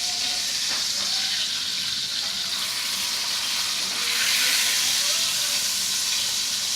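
Chicken sautéing in a frying pan, a steady bright sizzle and hiss that holds at a constant level throughout, close by, with no talking.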